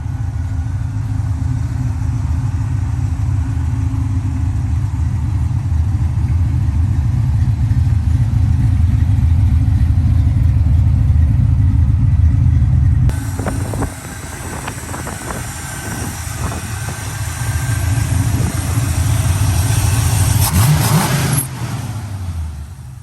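Manual-transmission car with work being done on its brakes, engine droning under load during a test drive with steady low rumble from inside the cabin, then a shift in tone as revs drop and rise again, no talk.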